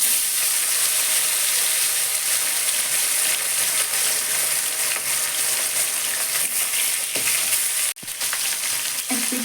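Close, continuous sizzling and spitting of salted barramundi (bhetki) fish frying in oil in a wok, with a brief clatter near the end.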